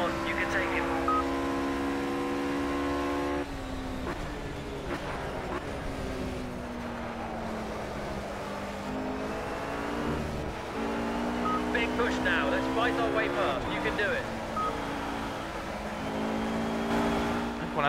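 Race cars including a Ruf, an Aston Martin and a BMW Z4 scream around the Catalunya circuit in Project CARS, engines revving and shifting gears continuously while a commentator speaks over the action.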